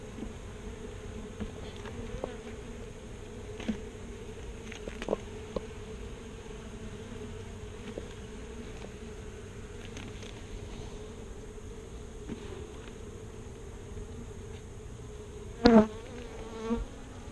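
Honeybees buzzing inside a hive during a split made because of swarm cells, a steady close hum with occasional clicks and knocks of handled frames.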